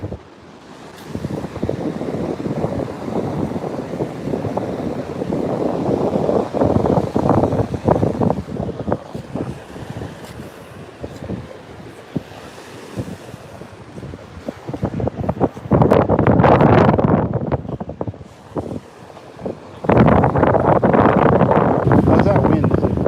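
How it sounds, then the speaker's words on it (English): Strong wind buffets the microphone on Madeira Beach, a loud, gusting roar with surf rushing underneath that swells in heavy bursts, and a voice talks briefly over it. "How's that wind? Is it really overwhelming? I mean, it's seriously blowing."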